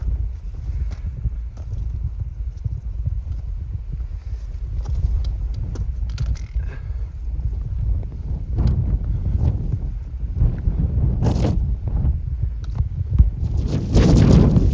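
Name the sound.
strong wind on a mountain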